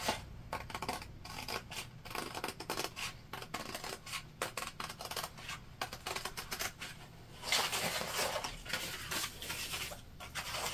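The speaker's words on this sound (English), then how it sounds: "So we cut out one main panel and our gusset piece so far for the interior." Scissors cutting a fabric panel for a sewn purse, quick repeated snipping and rustling of cloth in close, rapid bursts, with a louder stretch of rubbing fabric near the end.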